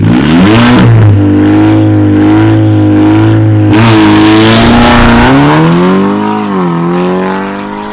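A VW Golf 6R engine roars loudly and close, revving hard with rising and falling pitch as it accelerates, continuously for about eight seconds with no talking.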